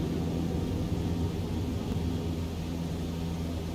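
A Cessna airplane in flight, its engine a steady loud droning rumble heard from inside the cockpit, constant and unbroken throughout.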